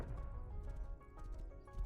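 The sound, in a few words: horse hooves galloping in a video game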